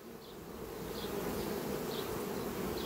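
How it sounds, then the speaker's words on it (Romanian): Bees buzz steadily near a hive, a dense continuous drone with individual insects passing close now and then, fairly quiet and with no talking. "Sunt niște albine, eu le identific fiindcă știu că nu sunt ale mele."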